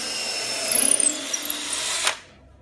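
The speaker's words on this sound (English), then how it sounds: "drill into that piece of wood right there" A power drill bores into a piece of wood in a workshop, whining steadily and close for about two seconds before cutting off sharply into quiet.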